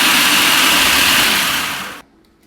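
A loud, steady electric mixer or food processor whirs close by as it blends a cheesecake-bite mixture with sugar, then cuts off abruptly near the end.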